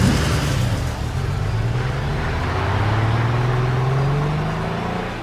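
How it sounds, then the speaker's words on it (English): A patrol car accelerates hard into a chase, its engine note climbing steadily in pitch over several seconds, loud and close with road noise and no voices. "Cried Kane, racing to the nearest patrol car, flashing his badge at the bewildered officer standing next to it, and promptly gave chase."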